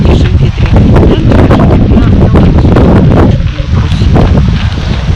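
Very strong wind roars steadily across a small island at about 44 km/h, buffeting the microphone and flapping a tarp, loud and continuous with a voice barely audible beneath it.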